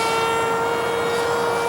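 Steady drone of a light aircraft's engine in flight held back below full throttle, a continuous even tone with a sustained whine and no breaks.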